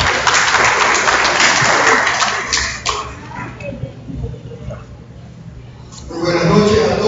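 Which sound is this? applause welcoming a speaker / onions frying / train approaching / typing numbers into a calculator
applause welcoming a speaker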